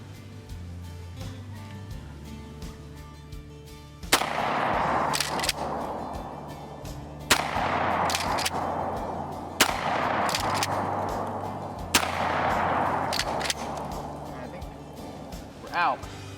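Outdoor range shots from a Winchester M1897 pump-action shotgun: four loud, sharp blasts spaced a few seconds apart, each followed by a long rumbling decay, with a low engine-like hum underneath.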